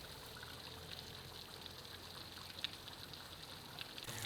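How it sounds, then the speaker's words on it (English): Water from a fountain in a park splashes and trickles in a steady, moderately close stream, with faint small clinks now and then. "I'm most drawn to the fountain and its water features"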